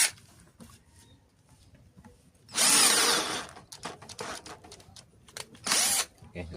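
A 12-volt cordless drill with an 8 mm bit whirs loudly in two short bursts at speed setting 2, the second briefer, with faint clicks and handling noise in between.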